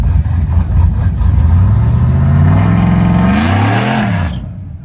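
An old truck revs hard for a burnout, its engine climbing in pitch over a few seconds, then peaking and dropping off sharply, loud and close.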